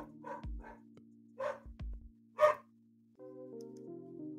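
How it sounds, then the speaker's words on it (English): A dog barks at the door indoors: a few sharp, separate barks spread over several seconds, with a steady low hum and some tonal background sound underneath. "That's the bark that says, yeah, you have the right to be here, but I'm going to yell at you anyway."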